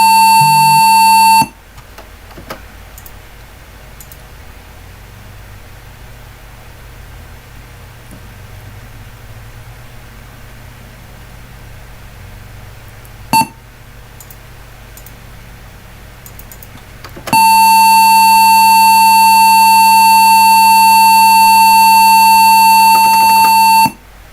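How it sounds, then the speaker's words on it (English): An old computer gives a loud, steady tone that cuts off after about a second. A long quiet hum follows, then a second loud, sustained tone lasts about seven seconds before stopping. "That was a long beep. One long loud beep."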